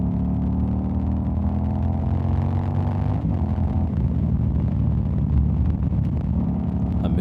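A vehicle moving at higher speed along a dark road at night, giving a loud continuous low rumble of engine and road noise with a slight shift in tone partway through.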